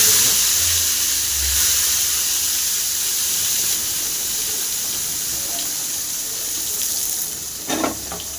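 Mustard seeds dropped into hot oil for tempering give a steady, dense hiss and crackle of spluttering that runs continuously throughout, with a few sharper pops near the end.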